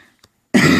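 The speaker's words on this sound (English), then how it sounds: "sorry for the coughing. I'm still coughing." A single sharp cough bursts in loudly after near silence, a short harsh throat-clearing hack from one person close by.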